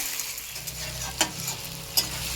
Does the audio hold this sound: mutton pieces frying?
yes